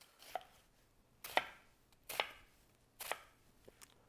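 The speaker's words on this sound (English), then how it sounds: "then you're just go straight down, dicing the onions." A kitchen knife dices onion on a cutting board with four crisp, evenly spaced chops about a second apart, close and fairly quiet with nothing else heard.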